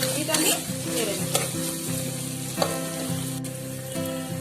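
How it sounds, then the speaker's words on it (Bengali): Ginger garlic paste frying in oil in a pan for a Bengali thali, with a steady close sizzle under repeated stirring scrapes and a few sharper utensil clicks, no talk. "আদা রসুনের পেস্টটা দেওয়ার পর ভালো করে আমি নেড়ে নেব"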